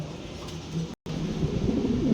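A pigeon, black with shocking markings, coos softly in short repeated phrases, close by with some chatter of other birds around it and a brief dropout midway.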